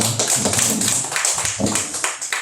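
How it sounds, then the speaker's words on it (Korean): A church congregation applauding during a Sunday service, dense sustained clapping from many hands throughout, fairly close and loud with no talking. "하나님 앞에 박수로 영광을 돌립니다"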